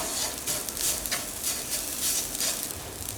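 A spoon scrapes and stirs grated ginger and boiled, grated raw banana in a hot frying pan, with a steady sizzle and rhythmic scraping strokes repeating.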